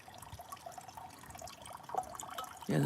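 Water is poured back into a metal cup, with faint drips and trickles before a short, louder pour splashes in near the end.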